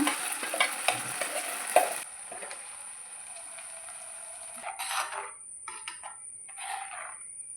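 Curry paste goes into a hot frying pan with a brief burst of stirring and sizzling, then a quieter hiss with a few more scrapes of the spoon.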